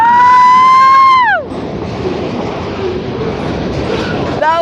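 CN manifest freight train passing, opening with a loud sustained horn that bends downward and cuts off, followed by steady rumbling and wheel clatter of cars rolling by, with the horn starting again at the very end.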